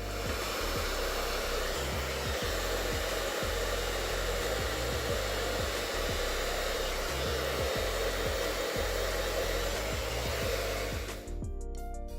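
A hair dryer fitted with a diffuser blows steadily on curly hair, a loud constant whir with small rhythmic bumps as it is moved, then cut off abruptly near the end; no voices.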